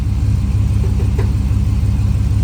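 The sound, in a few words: Honda car engine running on chocolate milk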